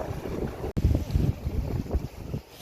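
Strong gusting wind buffets the microphone on a fishing boat in high winds off Somaemuldo island, with a steady low roar, water and hull noise throughout and a brief dropout near the start.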